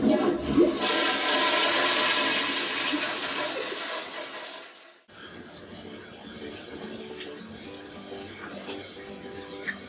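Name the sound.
toilet flushing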